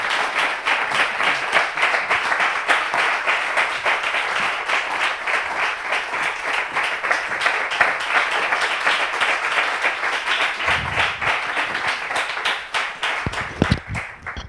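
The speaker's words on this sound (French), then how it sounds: "On l'applaudit, s'il vous plaît." A television studio audience claps in a dense, continuous wave that holds steady for roughly fourteen seconds, then thins out in the closing moments.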